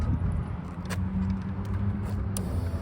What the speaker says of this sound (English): Give you guys a sound of what the stock muffler sounds like.